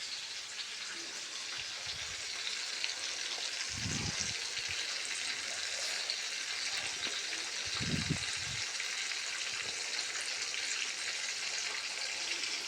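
Chicken frying in a pan on high flame, a steady bright sizzle running throughout with a couple of low thuds, no voices.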